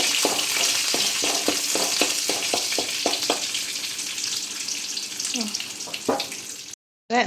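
Rice fries in a pan with curry leaves at hand, a steady close sizzle broken by a run of regular scraping stir strokes, followed by a short gap before the sizzle resumes.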